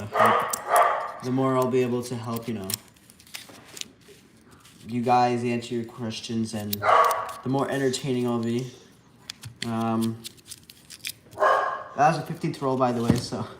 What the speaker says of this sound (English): that's my dog. She sees a squirrel.